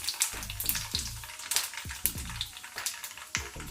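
Mustard seeds and cumin crackling in hot oil, a close, busy run of sharp pops and spits over a continuous sizzle.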